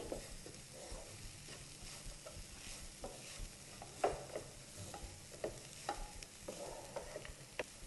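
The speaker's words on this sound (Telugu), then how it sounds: "ఈ కొబ్బరి పొడి ఉప్పు కారం ఇదంతా కూడా బాగా ఫ్రైకి పట్టేలాగా మనం బాగా కలుపుకోవాలి" Beans tossed with salt, chili powder and coconut powder are stirred in a pan: faint sizzling under repeated soft scrapes and clinks of the spoon, irregular and close.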